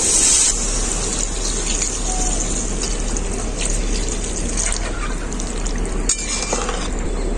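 Water poured into a pan of spiced mixed winter vegetables being cooked, a steady loud rushing pour that runs the whole time with a brief clatter near the end.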